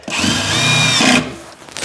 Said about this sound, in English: now we're going to pre-drill, get our screws loaded up, ready to go